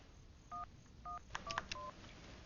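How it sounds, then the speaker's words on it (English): Telephone keypad touch-tones from a 1994 TV comedy as a number is dialed: a few clean, separate beeps, then a quicker run of tones, each short and clear over faint background hiss. "After dialing the number of your choice, simply key in your personal security code."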